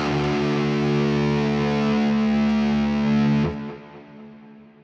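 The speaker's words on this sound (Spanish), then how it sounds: "Y para el sonido de guitarra líder agregué un delay y reverb." Distorted lead electric guitar run through a Mesa Boogie Mark IIC+ amp simulation with delay and reverb, sustaining a steady, thick note for over three seconds before cutting off and leaving a fading reverb tail.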